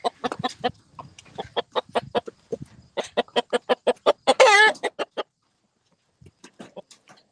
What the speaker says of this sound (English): That's a Cochin rooster crossed on a English game hen.